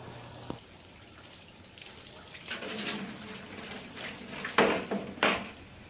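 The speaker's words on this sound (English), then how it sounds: "So I decided I'd pull the garden hose out and fill it up" A garden hose runs water into a galvanized steel planter tub with a brass spigot, giving a steady hiss and splash that grows louder and more turbulent, with a few sharp splashy bursts near the end.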